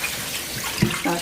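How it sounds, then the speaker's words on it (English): Running tap water rinses dried hibiscus (zobo) leaves in a sifter, a brief close splashing and trickling stream with a sharper splash partway through. "we have to wash the zobo so that we can take away any form of dirt or particle in it"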